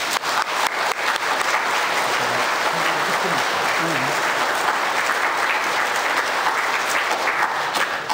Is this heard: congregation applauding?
yes